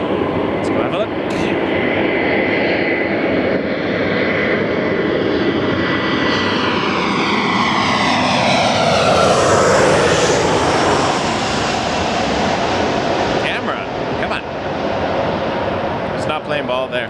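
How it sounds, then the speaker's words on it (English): Delta Airbus A320 jet arriving at Los Angeles International Airport, a loud continuous engine roar that swells and sweeps in pitch as it passes close overhead, steady throughout with faint background noise. "I hear it. Delta 1012 from Seattle, A320."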